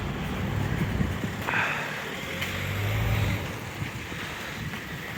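Gusty wind outdoors buffeting a phone held by someone walking, a rough broadband rush that swells and eases in gusts with a few faint background knocks.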